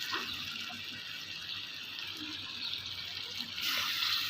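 Water streams steadily into a pot, a continuous rushing splash that brightens and grows louder near the end.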